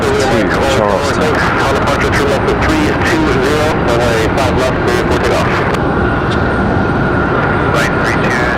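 A NetJets Embraer business jet, flight EJA 273, departs Raleigh-Durham toward Charleston, its engine roar broad and steady throughout with a higher whine emerging near the end.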